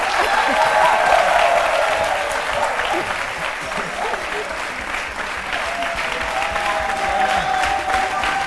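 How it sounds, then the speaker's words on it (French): Loud audience applause and cheering fill the room without a break, welcoming a performer on stage, with raised voices and shouts mixed into the steady clapping throughout. "On applaudit très très fort"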